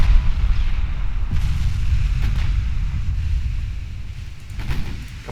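Heavy warship gunfire in the Ultimate Admiral Dreadnoughts naval battle game, a steady low rumbling roar of big-gun salvos with a few sharper booms rising out of it near the start and again toward the end.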